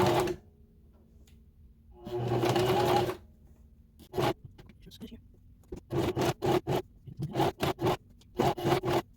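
A sewing machine stitches a triangle zipper pouch in short, close, mechanical bursts: one longer whirring run, then a series of quick stop-start stitching spurts separated by brief pauses.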